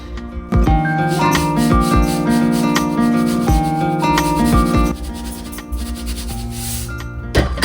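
Hands mixing flour with cumin, pepper, turmeric and salt into urad dal murukku dough give close, continuous rubbing and scraping strokes, with a few brief lulls and no talking.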